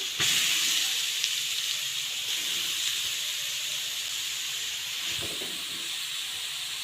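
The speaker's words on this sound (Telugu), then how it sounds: "ఇప్పుడు ఇందులోనే క్యారెట్ని కూడా వేసుకొని ఫ్రై చేసుకుందాం" Grated carrots frying in ghee in a pan, a continuous bright hissing sizzle, loud at the start and easing slightly, with a faint clatter of stirring partway through.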